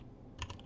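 A single P key pressed on a computer keyboard while working in After Effects, one soft, close click in a quiet room.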